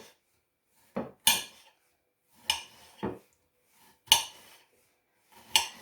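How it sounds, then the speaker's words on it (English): A knife chopping aubergine into small pieces on a board, four or five separate sharp knocks and scrapes spaced about a second apart, close and clear with quiet gaps between. "Now with the aubergine that's come out of that, you need to chop that, like the peppers, into small pieces."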